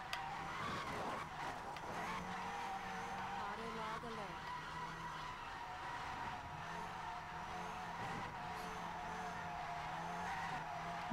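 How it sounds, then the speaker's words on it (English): A car drifts on a main road, its tires screeching and skidding continuously with a steady engine drone, loud and close throughout, with voices talking over it. "we just did half a mile of drifting"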